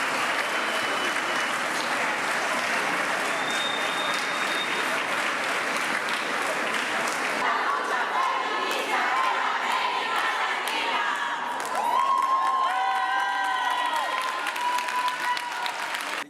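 Activists applaud and shout slogans after a Guatemalan court verdict in a sexual abuse and domestic slavery case, with dense, sustained clapping and crowd cheers throughout, rising voices and whistles toward the end.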